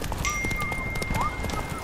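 Roach the horse gallops in the video game The Witcher 3, with rapid rhythmic hoof clip-clops and a brief whinny, close and clear over game ambience.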